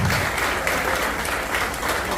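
Sustained, dense audience applause fills a hall at a school annual day function, steady and loud from start to finish with no pauses.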